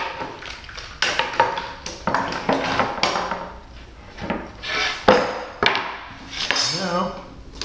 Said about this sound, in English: Take these clamps off.